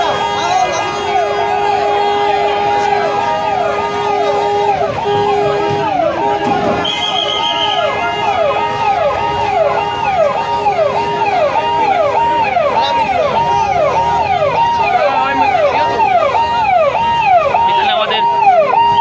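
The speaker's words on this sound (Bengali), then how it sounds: "অ্যাম্বুলেন্স।" An ambulance siren wails in steady, repeating rising-and-falling sweeps, loud and close throughout, as it passes a road blockade in front of a market and school in Hailakandi, with crowd noise murmuring underneath.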